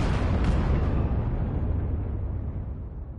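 Tilted Towers being destroyed in a Fortnite event, a massive continuous explosive roar with deep rumble filling the sound, slowly fading and losing its brightness over a few seconds.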